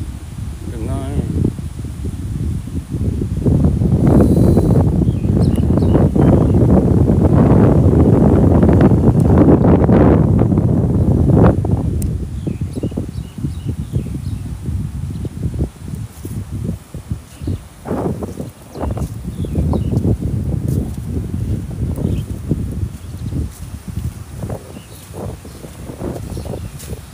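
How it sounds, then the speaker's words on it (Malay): Strong wind sweeps Pantai Hiburan beach in Rompin, Pahang, roaring in loud low-pitched gusts that peak early then ease into gentler buffeting, with a person talking over it. "Dengar ke bunyi angin?"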